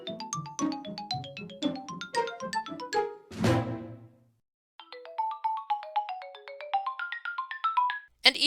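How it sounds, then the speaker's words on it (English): The Nintendo GameCube startup jingle plays clearly as a phone ringtone: a bright run of bouncy chime notes, then a swirling flourish and a short pause, followed by a second sequence of plinking tones. "Mario's ringtone is that of the GameCube startup jingle, which I'll play here"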